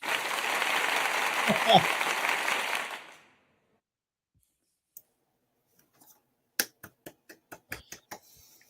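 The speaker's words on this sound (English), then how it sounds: "That's definitely a round of Bravo. applause moment for that one." Audience applause after a live song by an unsigned artist: a dense burst of clapping for about three seconds that fades out, followed by a few sparse, sharp clicks in near silence.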